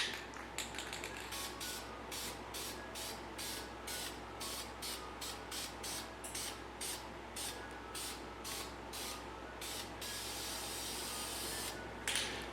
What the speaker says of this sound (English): we're going to shoot that with some spray paint